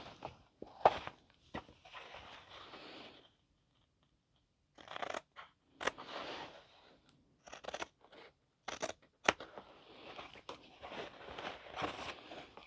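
Scissors snip and crunch through fabric lining in irregular bursts separated by pauses, close and fairly quiet, with occasional sharp scratches and handling noise and no talk.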